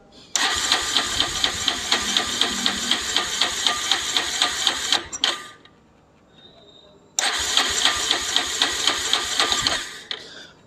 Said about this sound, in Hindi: चलिए मैं सेल्फ का उपयोग करता हूँ।